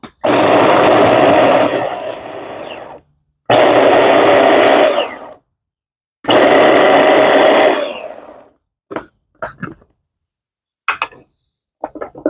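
A food chopper minces garlic cloves for smoked chicken noodle soup. It runs in three loud, whirring pulses of about two seconds each, followed by a few brief clicks and taps.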